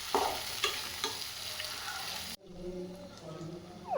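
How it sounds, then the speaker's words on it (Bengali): Onions and garlic fry in hot oil with black cumin, giving a dense, close sizzle with a few stirring knocks that cuts off abruptly partway through, then returns as a softer, steady frying crackle. "তারপর পেঁয়াজ দিয়ে পেঁয়াজগুলো একটু ভেজে নিয়ে এর মধ্যে রসুনটাও দিয়ে দেবেন"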